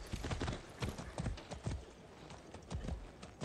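Horse hooves clip-clop in the Far Cry 6 video game, a quick uneven run of close, crisp hoofbeats with no talk over them.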